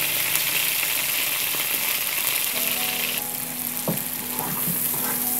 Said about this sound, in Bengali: পেঁয়াজ এবং রসুনটা সামান্য একটু ভেজে নিতে হবে